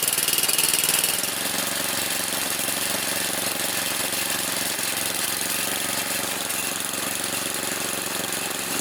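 A 22-year-old Craftsman 30 inch riding mower engine idling while it warms up, a steady close mechanical drone with a rapid rhythmic chug that is slightly louder for the first second, then even, with no talking.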